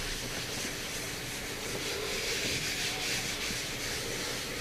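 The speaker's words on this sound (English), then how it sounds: "I'm going to lay it on top, and I'm going to start rubbing with my hands." Hands rub paper over a gel printing plate for a monoprint, producing a steady, close, even rubbing and brushing hiss that continues without pause.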